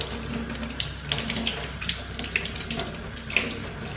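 Tap water runs steadily into a sink while strawberries are washed, with soft splashes and light clinks over the constant close flow.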